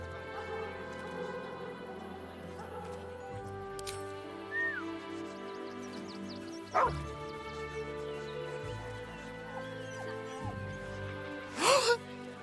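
A dog in Baldur's Gate 3 yips, whimpers and barks in short bursts over a soft, sustained game music bed, with a couple of louder sharp barks near the end.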